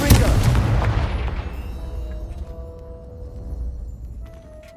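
Confringo explosive spell cast in the Hogwarts Legacy video game, heard as a loud booming blast at the start that rolls off into a long fading rumble, with faint tonal game sounds in the tail.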